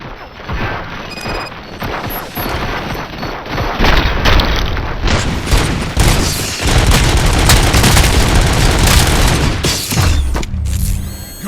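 Heavy, loud gunfire in the shooter game Robocop Rogue City keeps up almost nonstop, mixing rapid shots with deep booming blasts and crashing impacts.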